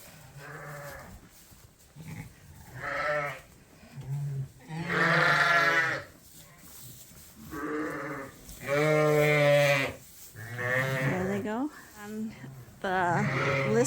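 Sheep and lambs bleat repeatedly in a barn pen, loud close calls in an irregular rhythm of several long wavering bleats with short gaps between them.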